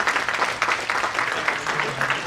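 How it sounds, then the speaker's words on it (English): Audience applause at an organic rural futures conference: steady, dense clapping from a crowd, continuous and fairly loud throughout without a clear rise or fade. "And thank you again, and a big round of applause."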